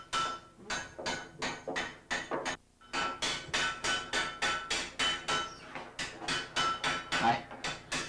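A blacksmith at a forge hammers out a plant hanger hook, with loud, close, rhythmic blows in quick runs broken by a short pause.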